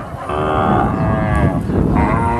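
F1 crossbred cattle at a livestock market give a loud, drawn-out moo lasting about two seconds, close by, over a busy background of market noise.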